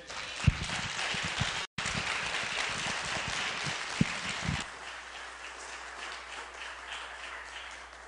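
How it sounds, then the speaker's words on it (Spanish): Church congregation applauding during a worship service, a broad, even wash of clapping with a few sharper thumps, dropping to a softer, thinner patter in the latter half. "Démosle un aplauso al Señor."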